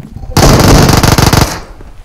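Rapid automatic gunfire in PUBG Mobile, a loud, dense burst of shots lasting just over a second, preceded and followed by quieter game ambience.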